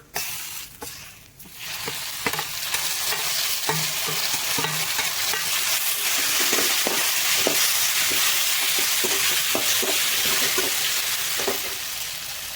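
Grated raw mango being stirred into dal frying in a pan, a continuous dense sizzle with repeated scraping strokes of the spoon, close and loud, without talk.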